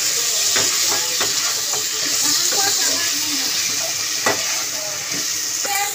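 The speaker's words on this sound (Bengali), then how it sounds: "আলু আর পেঁপেটাও কষিয়ে নিলাম" Fried potato and papaya being sautéed in masala for a fish head curry, a steady close sizzle broken by spatula scrapes and clicks as the pan is stirred, without speech.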